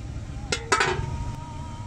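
A metal lid set onto a pot of chicken curry, giving two or three quick clanks and a brief ringing rattle, close and fairly soft over a low background hum.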